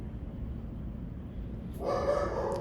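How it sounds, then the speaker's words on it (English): A dog gives a single short bark or yip from another room, brief and moderately loud after a quiet stretch. "My dog's barking again, bro."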